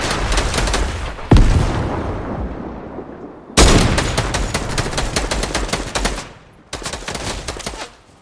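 Rapid automatic gunfire in a squad-mode video game, loud and close, rattling in long sustained bursts separated by a sharp break and a brief lull before the firing resumes.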